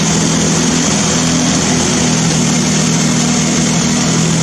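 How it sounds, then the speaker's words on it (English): A Mazda car engine on a test run indoors idles steadily and loudly, a constant low rumble with a droning hum that never changes for the whole stretch. "I'm going to stop the engine before it stops me"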